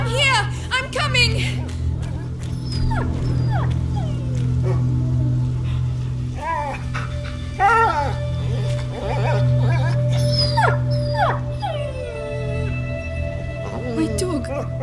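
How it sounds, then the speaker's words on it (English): Dog whimpering and yelping in the video game A Plague Tale: Innocence, several high squeals and cries scattered over a steady low musical drone, fairly close and loud. "My dog!"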